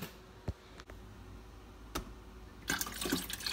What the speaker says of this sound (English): I'm gonna fill this cup up with some water because I use a Keurig.